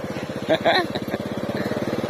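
A motorcycle chugs along a rural village road with a steady, close, pulsing engine beat, while someone talks over it.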